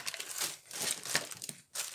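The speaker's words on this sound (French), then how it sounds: "c'est bien emballé dans du papier de soie" Tissue paper wrapped around a small craft-supply parcel crinkles and rustles as it is unfolded, in several close, crisp bursts with a brief pause near the end and no talking.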